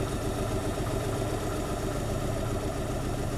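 An engine idles steadily and close, a continuous rumbling drone that holds even throughout, with no voices over it.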